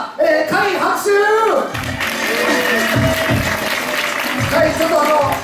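An audience applauds and cheers for Kai, the winner of a hip-hop contest. A full crowd roar and clapping rise after a voice with a rising, sung-like tone, then hold steady at a loud level.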